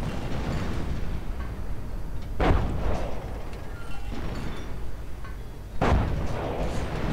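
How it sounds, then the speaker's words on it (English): A creeping artillery barrage in a World War II strategy game rumbles continuously, with two heavy, close booming impacts standing out above a dense, loud roar of shelling. "I think that's a creeping barrage"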